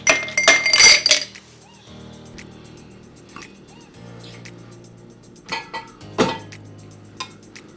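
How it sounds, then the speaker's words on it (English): Ice cubes clinking and rattling in a cocktail mixing glass filled to the brim with ice at a bar, with a burst of bright clatter at the start and scattered clinks later, close and fairly loud. "We are going to start with our mixing glass filled to the brim with ice"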